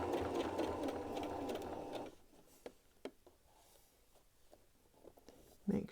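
A sewing machine stitching a t-shirt band seam, a steady mechanical whir for about two seconds close by, then stopping into quiet handling clicks and faint soft rustles.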